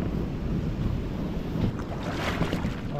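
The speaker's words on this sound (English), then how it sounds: "The tide is rushing back in. Oh, the waves are huge." Large ocean waves surge and crash continuously as the tide rushes back into rocky tide pools, a loud, steady roar of surf with gusting wind noise across the microphone.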